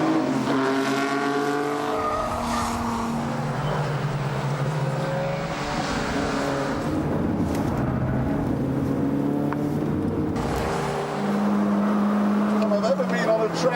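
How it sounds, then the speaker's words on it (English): A Mini's engine drones steadily as it races around a track, its pitch rising and falling through gear changes, loud and continuous beneath someone talking. "The engine is very, very muscular, pulls well."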